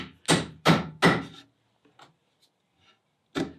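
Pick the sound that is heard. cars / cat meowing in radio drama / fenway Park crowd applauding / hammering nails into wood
hammering nails into wood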